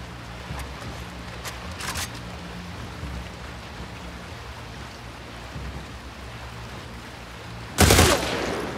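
Burst-mode gunfire in The Last of Us Part II. A few short, sharp bursts sound early over a quiet rainy background, then one louder, close burst near the end.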